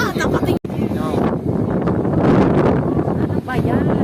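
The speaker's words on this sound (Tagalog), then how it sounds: "Lakas ng hangin." Strong wind buffets the microphone at Cloud 9 in Antipolo, a loud, rough rumble with gusting surges and a brief dropout, while voices are faintly mixed in.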